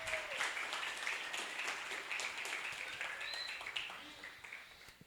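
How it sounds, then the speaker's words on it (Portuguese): Applause rolls through a room at an academic paper presentation session, steady and moderately distant across the whole stretch, with faint voices beneath. "Uma salva de palmas de novo para a dupla."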